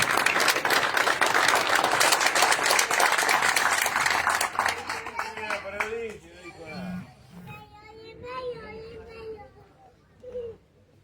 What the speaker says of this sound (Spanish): un fuerte aplauso para recibir al compañero Jorge